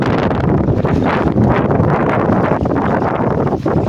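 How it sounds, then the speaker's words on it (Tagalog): Strong gusts buffet the microphone at a seaside fishing spot with boats nearby, a loud continuous roar of wind noise that swells and dips throughout without a break. "Mahangin mga ka-sisters, ang lakas-lakas."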